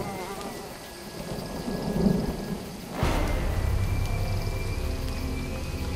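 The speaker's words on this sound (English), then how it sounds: "At least... the rain's easing up." Rain falls steadily on a jungle island in Jurassic Park: The Game, then a loud crack of thunder breaks in and rolls on beneath the continuing downpour.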